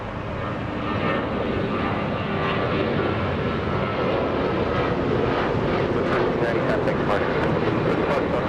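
A Southwest airliner's jet engines roar steadily at LAX, a broad continuous rumble and whoosh close to the listener, with a person talking faintly over it.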